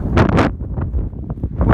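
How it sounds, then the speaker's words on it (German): Strong gusts of wind sweep across an open wheat field and buffet the microphone, giving loud, rough rumbling bursts with uneven rhythm throughout. "es ist sehr windig"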